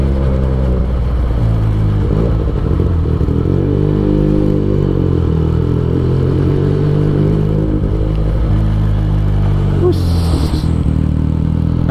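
A Benelli TNT 249 S motorcycle pulls uphill in fourth gear at about 4500 rpm, giving a loud, steady engine drone with a slight rise in pitch, heard up close throughout.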